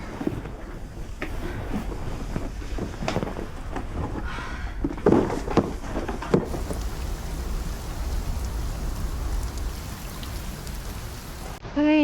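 Rain falling steadily in a dense, even hiss, with scattered louder drips and patters and a brief rustle near the end.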